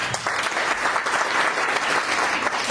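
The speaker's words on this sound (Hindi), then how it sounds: "जोरदार तालियां होनी चाहिए।" Loud applause from a large crowd at a motivational seminar, dense and continuous with no gaps, filling the whole stretch at high volume.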